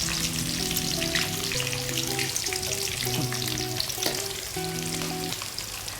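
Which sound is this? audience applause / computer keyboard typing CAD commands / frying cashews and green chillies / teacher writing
frying cashews and green chillies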